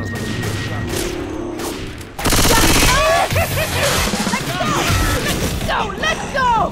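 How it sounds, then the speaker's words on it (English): Rapid gunfire from a railgun in Left 4 Dead 2 erupts suddenly and continues in loud, dense bursts, mixed with game effects and shouting voices. "Sounds like a good shot."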